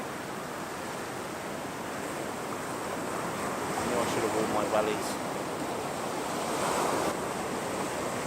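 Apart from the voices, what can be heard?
waves washing up on the coast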